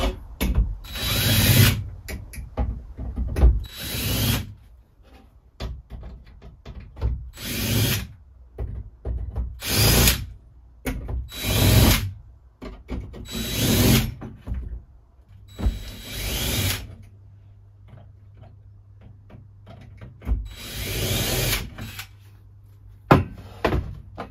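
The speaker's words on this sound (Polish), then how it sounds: "nawiercić otwory" A power drill bores holes in the kitchen cabinetry of a DIY camper van build, with repeated loud whirring bursts of several seconds each, separated by pauses, clicks and handling knocks, recorded close up.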